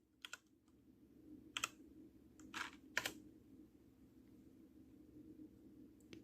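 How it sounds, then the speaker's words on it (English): Several quick keystrokes on a computer keyboard while searching BIOS settings, coming in short, sparse clusters of clicks over a steady low hum, with long quiet gaps between them. "if I start to type the settings"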